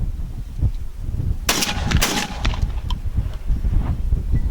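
A Remington 11-87 Sportsman Super Magnum semi-automatic shotgun fires 3.5-inch shells, giving one sharp, loud blast with a short crack and ringing tail. The shot cuts through a steady outdoor background.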